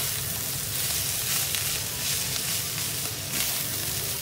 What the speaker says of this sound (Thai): เอาใบมะกรูดลงเลยค่ะ ผัดทุกอย่างให้เข้ากันเลยนะคะ